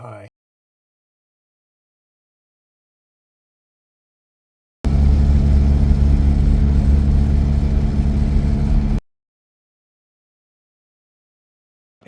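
A classic Mini car engine drones steadily while driving, a loud mid-pitched hum that starts abruptly, runs for about four seconds and cuts off, with silence before and after.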